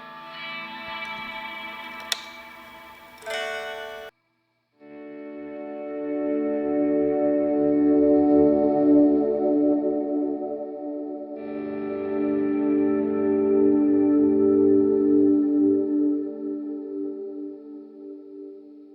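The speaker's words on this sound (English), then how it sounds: "I'm going to turn a wet reverb on, a little bit of delay." Electric guitar notes swell in slowly and ring out with heavy reverb and echoing delay, a short plucked phrase first, then long sustained washes of sound.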